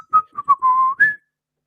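A person whistles a short melodic phrase into a microphone, a few quick clear notes followed by a held tone and a rising final note, close and solo.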